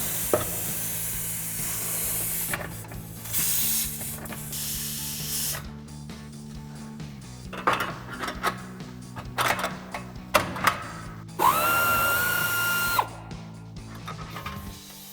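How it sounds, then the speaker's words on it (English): A bolt is taken out of the rear bumper area of a 2019-2024 Chevrolet Silverado or GMC Sierra 1500 with hand tools, giving irregular ratchet clicks and clatter and then a short whirring burst from a power driver. "First bolt out, we'll go ahead and remove that completely. Do our second one here."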